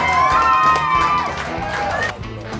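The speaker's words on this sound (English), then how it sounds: "Let's cheer them on." A crowd cheers and shouts encouragement for contestants in a casino ice cream eating challenge, loud close voices whooping over each other in a short burst.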